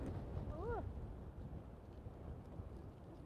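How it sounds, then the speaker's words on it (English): Strong wind buffets the microphone on a street in Asakusabashi, Tokyo, as a steady low roar that persists throughout, with a brief high whistling sweep near the start. "It's so windy today."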